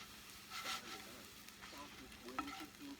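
Bread pieces toasting in olive oil in a skillet for a microgreen Caesar salad, giving a soft, steady sizzle with a few scraping stirs and light clatter, fairly quiet and with no talk.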